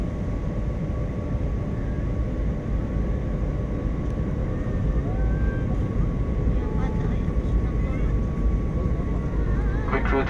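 Steady loud roar of a landing airplane heard close by, a continuous engine rumble with a faint whine holding throughout, and voices faintly present beneath it.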